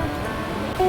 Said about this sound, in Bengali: আর সেটা হলো সমুদ্রের ঢেউয়ের শব্দ